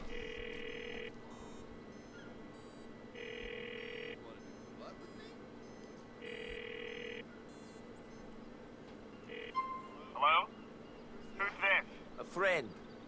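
In Grand Theft Auto IV, a telephone rings in steady, evenly spaced electronic bursts about a second long, repeating several times over low game ambience, with voices talking near the end.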